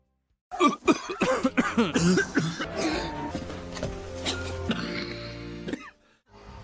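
Several harsh coughs burst out in quick succession, then give way to a soft sustained musical tone that fades out.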